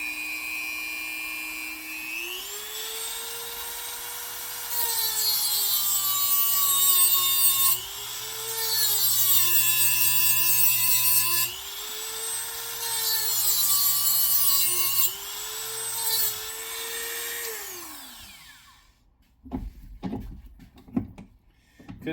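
A high-pitched rotary cutting tool grinds through an AR-15 castle nut and back plate, a close, loud whine held for long stretches with small dips in pitch as it bites, then stopping, followed by a few clanks.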